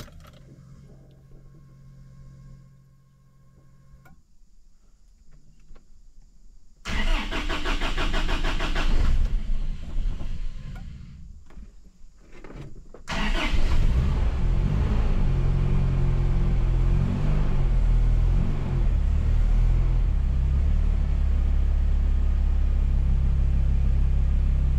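A turbocharged Toyota 3RZ engine with a newly installed aftermarket ECU cranks and fires up, revs briefly, cuts out, then starts again and settles into a steady, loud idle rumble.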